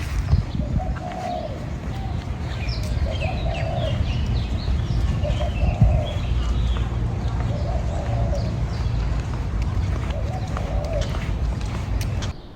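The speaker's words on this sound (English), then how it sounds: "You're probably hearing birds in the background" Doves coo in tropical landscaping at a Lahaina, Maui condo complex, a soft repeated phrase returning every couple of seconds over a steady low outdoor rumble, with other faint bird calls mixed in.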